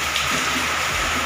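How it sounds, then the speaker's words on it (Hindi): Heavy rain pouring down at a house in India: a dense, constant hiss and roar of falling water that fills the whole clip, with no voices. "आप लोग मेरी आवाज़ कम, बारिश की ज़्यादा सुनाई पड़ रही होगी"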